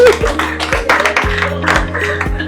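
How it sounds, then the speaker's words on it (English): An audience claps for one of its members at a talk on money, a loose run of close, crisp hand claps over a low musical backdrop. "Give this guy a hand clap"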